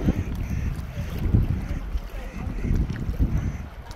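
Strong wind gusts buffet the microphone at Moraine Lake and Lake Louise in Banff, Canada, a continuous low roar that swells and eases, with faint background murmurs of a crowd.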